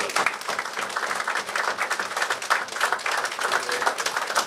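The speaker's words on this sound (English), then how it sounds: "a resounding round of applause to this person" A dinner crowd at a police service fiftieth anniversary celebration claps in a lively, sustained round of applause, close and moderately loud with individual hand claps audible.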